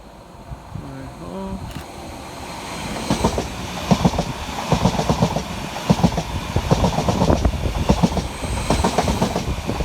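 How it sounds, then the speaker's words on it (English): A Greater Anglia class 745 electric train, unit 745-104, runs through Silver Street station on a London Liverpool Street to Stansted Airport service, rising from quiet into a loud, close rhythmic clickety-clack over the rails, under an announcer's voice. "Passing next through the station for Greater Anglia is 745-104, working 1 Bravo 48 from London Liverpool Street through to Stansted Airport"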